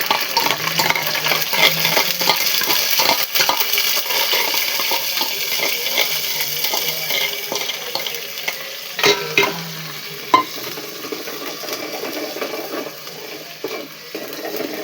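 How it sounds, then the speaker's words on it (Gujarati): Onion paste fries in a pan for paneer curry, a steady bright sizzle broken by scraping stirs and occasional clinks of a spoon against the pan, close and continuous. "ડુંગળીનો પેસ્ટ નાખી દેશું."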